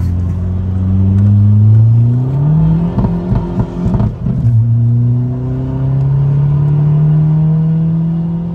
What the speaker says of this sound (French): Le petit bazou, il tourne pas mal